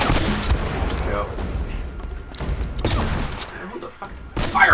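Enemy gunfire in Uncharted: Drake's Fortune, rapid bursts of shots and booming impacts in irregular volleys, loud and close, with a voice talking over it.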